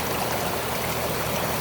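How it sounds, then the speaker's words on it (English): Water trickles steadily down into crates in the sump of an ecosystem pond, a close, even, continuous stream sound. "the water can trickle down"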